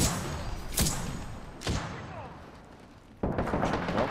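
Gunfire in Apex Legends: a few sharp, loud shots spaced apart, with a burst of rapid fire near the end over a busy game background.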